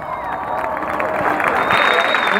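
Crowd applause and cheering at a live freestyle rap show in Guayaquil, Ecuador, a steady loud roar of clapping that swells toward the end, with voices mixed in and a high tone running through.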